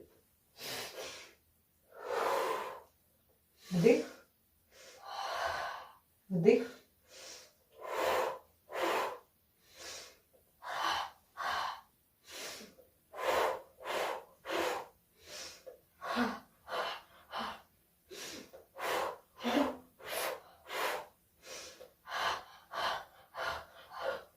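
Repeated deep breaths during a group breathing exercise, sharp inhales and exhales at a steady rhythm through about two dozen bursts, close and loud with no talk between them.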